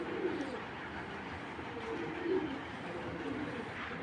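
An imported racing pigeon coos softly nearby, with a few low, brief calls over a quiet, steady background hum.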